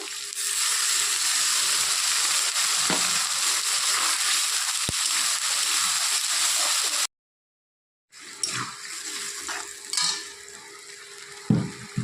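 Spice paste is poured onto fried potatoes and onions in a pan and sizzles steadily, with a short silent gap, then renewed crackling and the clatter of a utensil against the pan.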